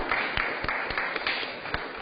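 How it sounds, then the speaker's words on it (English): Audience applause at a city board of aldermen meeting, sparse, fairly faint rhythmic clapping from a small group, steady and brief. "Let's give her one more round of applause."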